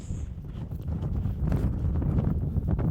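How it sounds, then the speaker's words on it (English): Strong mountain wind buffets the microphone in the Lost Valley beneath Bidean nam Bian, with steady loud low rumbling gusts that build from about halfway through and carry no speech. "it's too windy to go on"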